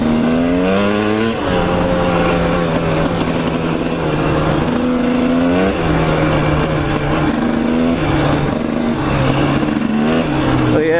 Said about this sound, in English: Trying to roost that car a little bit